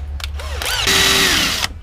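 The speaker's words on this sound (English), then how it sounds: "I'm going to drill through that and into the middle." A power drill whirs briefly as a bit bores through layered material during a custom crossover install, the motor pitch rising and holding loud and close for about a second.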